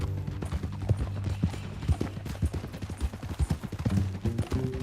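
Horse hooves clip-clop in Red Dead Redemption 2, a steady rhythmic trot of close, loud hoofbeats on a dirt trail, continuing evenly for several seconds with faint background ambience.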